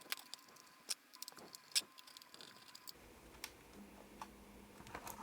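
Soft, irregular tapping on the rubber keyboard of a Pocket Term 35 mini PC built around a Raspberry Pi 5, with a few sharper clicks among faint muffled keystrokes in a quiet room.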